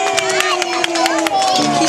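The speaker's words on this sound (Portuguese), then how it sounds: "Palmas para as pombinhas." A lively crowd at a children's party cheers and shouts with scattered claps, high excited voices and sustained vocal tones layered over sharp intermittent clapping.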